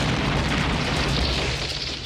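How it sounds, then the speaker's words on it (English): A bomb blast in an action movie trailer gives a dense, loud rumbling boom that fills the short moment with broadband roar and no talk. "That was a bomb?"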